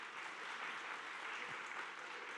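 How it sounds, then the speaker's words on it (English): Audience at a community forum applauding panelists, a soft, even wash of distant clapping that holds steady without breaks. "Let's give them another round of applause."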